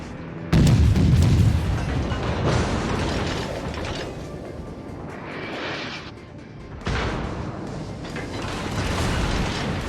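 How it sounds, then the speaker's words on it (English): Heavy cruiser-style naval gunfire from the American Tier III cruiser St. Louis in World of Warships, loud booming salvos with mechanical clatter, repeated bursts over several seconds and a steady rumbling battle background. "let's shoot at the enemy cruiser a bit more"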